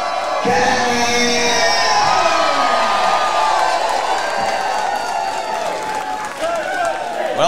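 A wrestling event crowd roaring and cheering for Taylor King, loud and sustained with whoops and shouts, while an announcer speaks over the noise.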